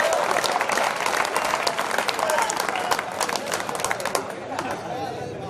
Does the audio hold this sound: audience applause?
yes